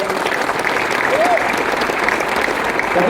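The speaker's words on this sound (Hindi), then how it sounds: "प्लीज उनके लिए एक जोरदार तालियां।" A crowd claps loudly and continuously at a success celebration, a dense wall of applause filling the room with a faint voice under it.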